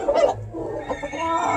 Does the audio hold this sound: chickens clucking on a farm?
yes